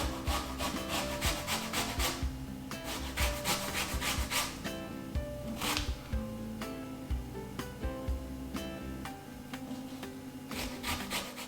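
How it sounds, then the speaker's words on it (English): A lemon is rubbed over a zester, giving close, rhythmic rasping scrapes in steady back-and-forth strokes throughout, with no talk. "We're gonna just get the zest off the lemon."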